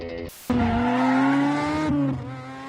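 A rally car from the film Taxi 2 speeds past with a loud, sustained engine roar and rising pitch, close and dominant, fading after about two seconds with a brief sharp sound at the start.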